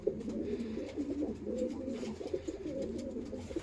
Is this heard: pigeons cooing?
yes